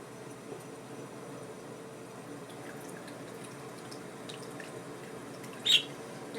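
Tap water runs in a steady, soft hiss into a backyard bird bath, faint and continuous, with a brief small splash or chirp near the end.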